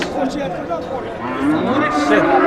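Cattle mooing at a crowded livestock market in Shohidon, with several overlapping low calls and bellows close by over a steady murmur of the busy crowd.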